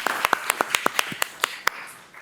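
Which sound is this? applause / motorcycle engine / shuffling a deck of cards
applause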